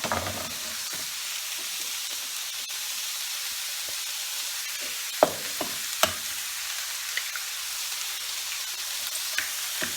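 Bacon frying in a pan for a bacon-and-eggs breakfast, a steady loud sizzle and hiss throughout, broken by a few sharp pops and spits, with no one talking.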